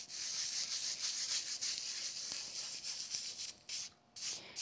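Diamond snow sprinkles being burnished by hand onto a mica-coated craft project, a steady close scratchy rubbing that continues throughout with brief pauses near the end.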